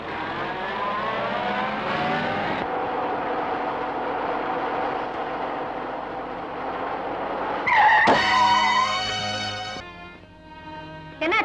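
A car engine roars steadily, then a sharp tire blowout is followed by a long high tire screech that trails off, with a brief jolt at the end.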